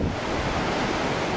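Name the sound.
wind on the Atlantic coast of Morocco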